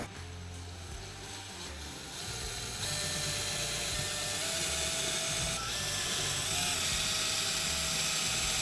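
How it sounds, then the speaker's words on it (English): A power drill whirs steadily nearby while drilling pilot holes for a door barricade, its high-pitched whine rising as it bites into material, continuous for several seconds with no talking. "we're going to drill our pilot holes"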